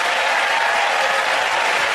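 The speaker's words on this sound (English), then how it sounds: "give it round of applause for the Chris" Studio audience applause at a comedy panel show, a dense, loud, even burst of clapping filling the short moment with no pause.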